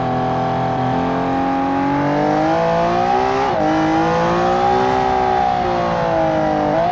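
A custom Widowmaker GT car built in Automation, driven in BeamNG, revs loud and close, its engine pitch climbing steadily, dipping briefly at a gear change, then rising again, with no talk over it.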